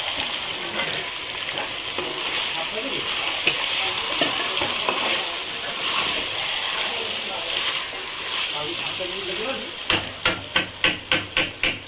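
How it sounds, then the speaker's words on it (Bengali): Mutton hits a pan of already fried ginger and garlic, giving a steady sizzle with stirring scrapes, then a run of sharp rhythmic knocks near the end. "আমার আদা রসুন ভাজা হয়ে গেছে, এবার খাসির মাংসটা দিয়ে দেবো।"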